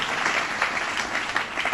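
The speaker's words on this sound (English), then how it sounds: "Let's give him a round of applause and thank him." An audience at a Governor Cuomo event on the 2013 legislative session gives dense, sustained applause, with many hands clapping steadily at a fairly loud level and no speech over it.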